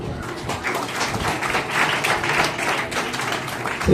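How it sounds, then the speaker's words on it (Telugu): A church congregation claps together at a Telugu revival gathering, with dense, uneven rounds of hand claps rising and falling over about four seconds, fairly close and lively. "చప్పట్లు"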